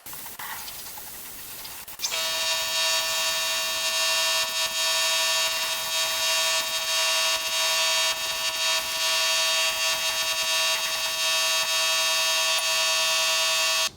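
A spray gun lays a thin coat of primer on the bonnet of a 1957 VW oval-window Beetle, starting abruptly after two seconds as a loud, steady, high hissing spray with a whining tone that runs without a break to the end.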